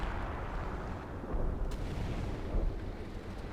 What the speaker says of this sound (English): Zeroing artillery, artillery flares combination.